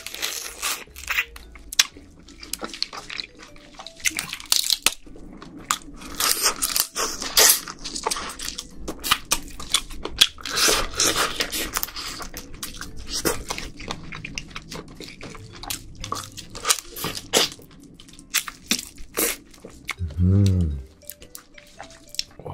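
Close crunching and cracking of king crab, snow crab and red crab shells during eating, with wet dripping sounds, steady chewing and occasional short voices.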